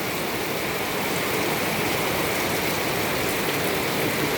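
Steady rain falling outdoors in rural Zambales, a dense, even hiss of drops on leaves and surfaces that stays constant and fairly soft without a break.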